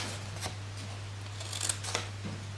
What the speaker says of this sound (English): And then we're just going to cut up each of the corners there, like this.